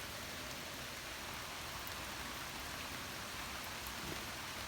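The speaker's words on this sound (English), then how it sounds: "And all I hear is the rain." Quiet, even rainfall outside a still house, a soft uninterrupted hiss with no other sounds and no voices.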